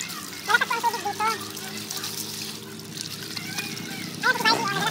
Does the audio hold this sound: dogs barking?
no